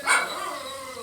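A single dog gives a short, sharp bark that fades quickly, with faint background sound behind it.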